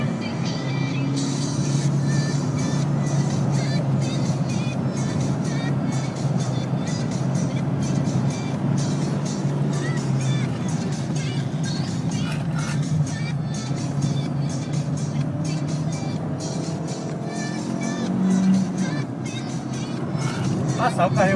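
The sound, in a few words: Fiat Uno Sporting car driving on race track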